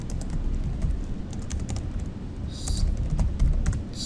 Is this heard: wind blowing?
no